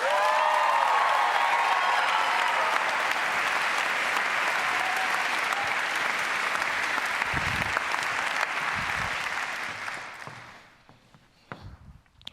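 A large church audience applauds loudly and steadily for about ten seconds, then the clapping fades out to a few scattered claps.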